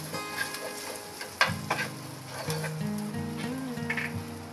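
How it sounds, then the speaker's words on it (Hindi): Spices, coriander powder and dried curry leaves sizzle in hot oil while being stirred, a close, steady frying hiss with scraping clicks from the spoon. "अच्छे से मसाले को मिक्स कर लूंगी।"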